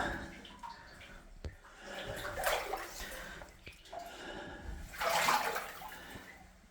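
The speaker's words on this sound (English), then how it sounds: "I stepped on something that sent some air bubbles up" Air bubbles rise and burst through water in a flooded underground mine, coming in two gurgling bursts a few seconds apart over quiet, echoing dripping.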